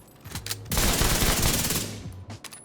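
A rapid burst of automatic gunfire from a Striker-build weapon in The Division 2 rattles loudly for over a second, framed by a few isolated shots before and after.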